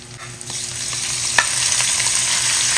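Meat for Ilocano dinuguan sautés in a hot pan with a close, steady sizzle that grows a little louder over time. One sharp utensil clink stands out, with no voices.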